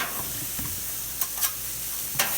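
Chicken and steak sizzle on a Camp Chef flat top grill while being stirred and mixed into piles, a steady close hiss with a few brief scraping spatula clatters.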